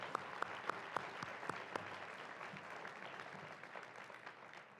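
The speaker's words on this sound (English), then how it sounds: "I'd like to clap for them one more time" An audience at a board of education meeting gives a round of applause, opening with a few sharp individual claps before settling into a soft, steady patter.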